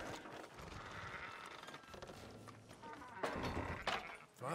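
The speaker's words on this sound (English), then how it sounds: "Fine sheep." Sheep bleating in Red Dead Redemption 2, several wavering bleats from a small flock mixed with a dull thunk, heard fairly close over a busy game soundscape.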